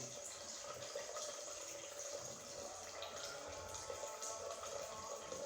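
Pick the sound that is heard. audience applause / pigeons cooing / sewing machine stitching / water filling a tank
water filling a tank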